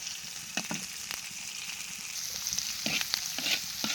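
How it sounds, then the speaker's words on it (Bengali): Bitter gourd fries in a wok, a close, steady oil sizzle broken by a few scraping stirs and utensil knocks, growing slightly louder toward the end. "আজকে করল্লা ভাজি চিংড়ি মাছ দিয়া শুধু করল্লা দিয়ে ভাজি করবো।"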